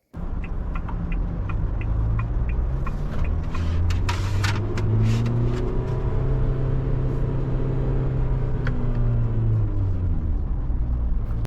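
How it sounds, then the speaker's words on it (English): A GWM P-series pickup's engine revs in first gear in manual mode, a steady droning rumble that rises and falls in pitch and is heard from inside the cab with faint clicks and rattles. "that's how you end up hearing this revving here"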